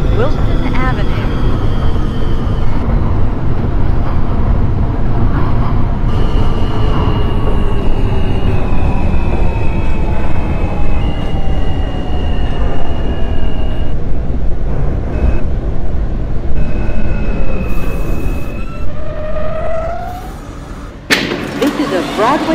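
An R160A/C L subway train runs in the OpenBVE simulator game, a loud steady rumble with rising and falling motor whine as it moves between stations, ending with a sudden burst of noise.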